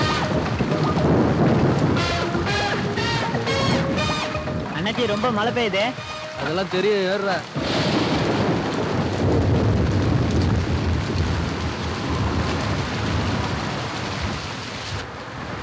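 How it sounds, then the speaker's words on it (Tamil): Heavy rain pours down with rumbles of thunder outdoors beside a highway, a dense steady roar throughout. People talk over it, and a brief burst of music sounds partway through. "அண்ணாச்சி ரொம்ப மழை பெய்யுது."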